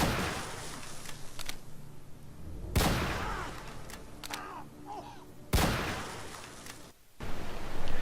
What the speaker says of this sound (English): Very shotgun-like. As you can see, there are about 3 or 4 pellets that come out, and they leave fire for a considerate amount of time.